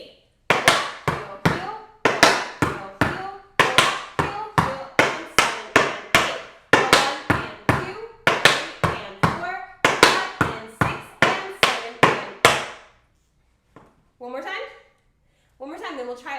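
Tap shoes strike a hard floor in a fast, even run of crisp heel taps and shuffle ball changes from a beginner routine, close and loud, with a couple of shorter bursts after a pause.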